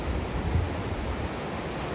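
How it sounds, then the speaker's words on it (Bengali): Sea waves washing in along a beach where fishermen are casting nets, a steady, dense rushing wash with a slight swell, heard alone. "সমুদ্রের ঢেউ"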